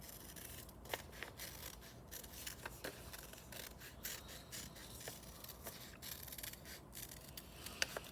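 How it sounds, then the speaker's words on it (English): Scissors slice through two stacked layers of scratch art paper in a series of soft, close snips and scrapes. The cuts come at an irregular rhythm in a quiet room. "I'm gonna cut through both halves of my scratch art paper at the same time."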